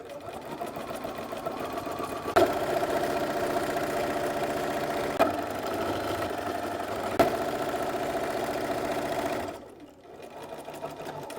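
A sewing machine stitches a seam on a Barbie of Swan Lake inspired dress, whirring steadily and close with a few brief clunks, pausing near the end before starting up again.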